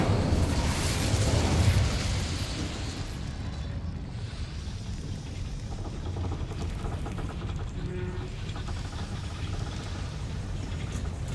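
Incendio fire spell cast in Hogwarts Legacy, a loud roaring burst of flame that swells over the first two seconds and then settles into a steady crackling rumble.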